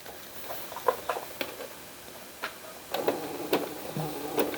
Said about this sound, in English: I'm going to use a zigzag stitch on a really narrow stitch because I want as much pocket space as possible in there